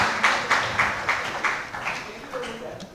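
Applause at a university summer school opening ceremony, a steady round of clapping with a few louder claps standing out near the start, then fading under a voice that begins speaking toward the end.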